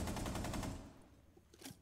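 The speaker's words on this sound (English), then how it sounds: "I gotta reload after shooting my 5 shots." Rapid gunfire in the Rainbow Six Siege video game, a quick burst of about five shots fading into quieter game noise, with a faint later report near the end.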